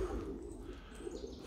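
Soft, low cooing from Budapest tumbler pigeons near their loft, a faint murmuring call that stays quiet and steady against a hushed outdoor background.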